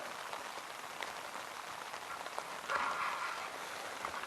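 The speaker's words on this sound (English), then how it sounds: "Listening to the rain." Steady rain patters on the iron-walled roof of a hot tent during an overnight camp, a dense close hiss of drops that swells slightly near the end.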